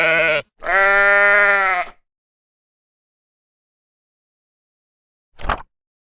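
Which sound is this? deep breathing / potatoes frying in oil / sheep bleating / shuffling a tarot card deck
sheep bleating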